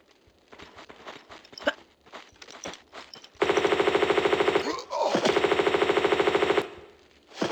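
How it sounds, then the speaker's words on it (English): Rapid automatic gunfire in Tomb Raider 2, on the Living Quarters level: a dense, loud burst of evenly spaced shots lasting about three seconds, with a brief break partway through, after quieter footsteps and game sounds. "My auditory system picks up sounds of fire."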